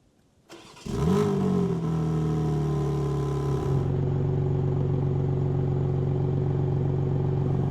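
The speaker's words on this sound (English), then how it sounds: "The M2 gets the standard M2's sports exhaust." A 2026 BMW M2 CS engine starts with a sharp bark, revs loudly once, then settles into a deep, burbling sports exhaust idle close by, exhaust valves open.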